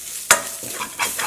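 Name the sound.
spice paste frying in coconut oil for egg biryani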